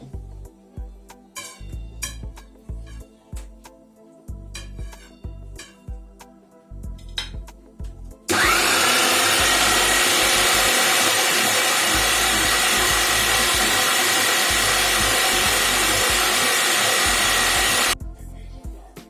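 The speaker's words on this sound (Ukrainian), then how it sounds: "наші гриби вихололи, їх потрібно передрібнити через м'ясорубку" An electric meat grinder mincing cooled cooked mushrooms roars loud and steady for about ten seconds, a dense continuous motor whir with gritty grinding, starting abruptly after quieter kitchen clatter and stopping just as suddenly.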